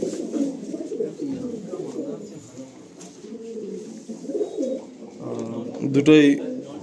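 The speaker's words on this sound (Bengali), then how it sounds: "এই একটা এক সেট পায়রা দেখুন, দুটোই নর পায়রা।" Andhra breed pigeons, a pair of males, coo in repeated low throaty rolls close by, with a brief wing flutter near the end and a person's voice partly under the calls.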